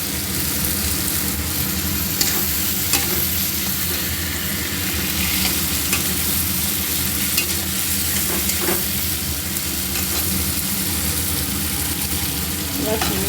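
Pointed gourd fries in a pan while being stirred, a continuous close sizzle with scraping and clinking of the spatula throughout.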